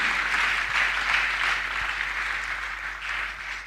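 Congregation in a church service applauding loudly and steadily, a dense wash of clapping that holds for the full few seconds with no talk over it.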